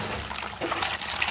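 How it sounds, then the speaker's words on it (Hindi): Boiled eggs dropped into hot oil in a kadhai give a soft, steady sizzling hiss with light crackle, fairly quiet and without talk. "तो इसमें अभी हम सारा अंडा को डाल देते हैं।"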